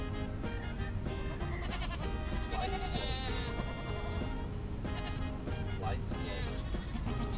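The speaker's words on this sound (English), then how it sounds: "We had some original sheep that didn't sound good, and Keela found more appropriate sheep." Sheep bleat repeatedly in a sound effect, several wavering bleats overlapping in a dense, continuous livestock chorus at a fairly low level.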